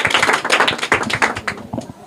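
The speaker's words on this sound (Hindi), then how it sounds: "जोरदार तालियां" Dense, steady applause from an audience at a Hindi quiz session, cheering a correct answer: many hands clapping fast and close, loud throughout, with little break in the sound.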